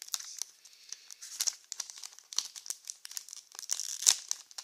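Trading cards are pulled from a crinkly foil pack of a tripack in a string of close, sharp crinkles and rustles, irregular and quiet, with a louder crackle near the end and no voices.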